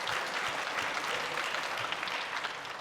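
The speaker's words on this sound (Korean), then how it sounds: "한번 박수로 환영하겠습니다" A church congregation claps to welcome a visiting missionary family, a steady wash of applause at moderate, even loudness for a few seconds with no speech over it.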